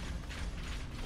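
A video game weapon is reloaded with a short, quiet mechanical clatter of ratcheting, clicking metal parts, heard alone with no talk.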